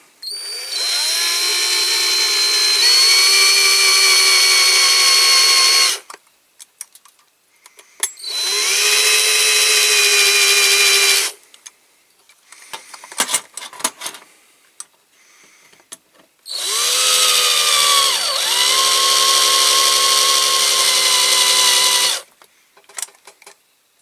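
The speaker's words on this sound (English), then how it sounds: "there's a nice little hollow in the rivet already, so that it'll be easy to keep the drill bit central" A loud power drill whines in three long bursts, drilling out a metal rivet on a Dinky Toys model lorry, its motor pitch sagging as the bit bites, with clicks and rattles between runs.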